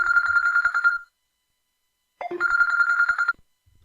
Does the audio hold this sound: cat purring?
no